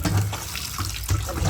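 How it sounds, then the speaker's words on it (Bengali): Water splashes and drips out as boiled bottle gourd leaves are squeezed by hand, a close, continuous wet pouring sound lasting a moment. "তো এটাকে আমি চিপে জলটা ফেলবো"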